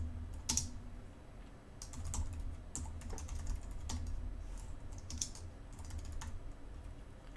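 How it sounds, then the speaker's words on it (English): Typing on a computer keyboard, with irregular clicky keystrokes and short bursts over a steady low hum of room or computer noise, nearby and moderately loud, with no speech. "let me just type that in"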